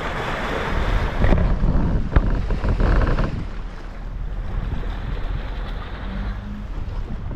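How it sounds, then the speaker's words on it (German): Waves thrown up by a passing police patrol boat wash along the bank of the Main river at Karlstadt, a rushing, sloshing surge under heavy wind buffeting that eases to a softer lapping. "Das sind die Wellen."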